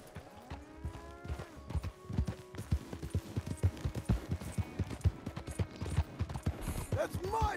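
Horse hooves clip-clop at a quickening trot in the video game Red Dead Redemption 2, close and rhythmic, building into a steady run with a faint whinny-like cry near the end.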